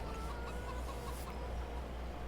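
Chickens cluck softly and steadily in a large chicken pasture in the farming survival game No Man's Land, a continuous low barnyard murmur with no talk.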